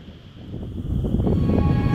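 Strong wind gusts across the microphone at an outdoor birding spot, a low, rough roar that builds and stays loud without any voices.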